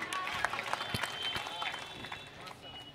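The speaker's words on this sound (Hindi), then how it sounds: "दद्दा ताली।" An audience at a Hindi poetry recital claps in a lively, uneven patter that rises and tapers over a few seconds, with voices and a speaker heard over the applause.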